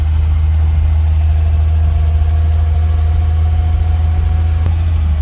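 A Ford Pinto engine with a broken throttle cable runs at its limit, a steady loud low drone with a faint mid-pitched whine, constant and unbroken throughout without talk.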